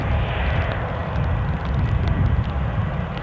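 EasyJet airliner at Newcastle International Airport, giving a steady, rumbling jet engine roar with strong low-end weight that stays even throughout, heard alone.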